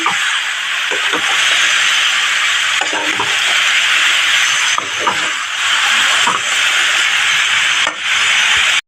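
Boiled cabbage with salt and turmeric sautéed in a wok, a loud steady hiss of steam and frying throughout with a spatula scraping and rubbing along the pan, close and continuous with no talk.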